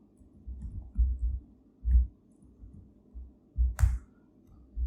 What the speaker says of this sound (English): I'm pressing Ctrl X and I've saved it.